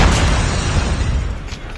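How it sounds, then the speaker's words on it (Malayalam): A grenade goes off in a shooter video game, a loud, dense boom that rumbles and slowly dies away over a couple of seconds. "നമുക്ക് എന്തായാലും അവിടേക്കൊരു ഗ്രനേഡ് ഇടാം"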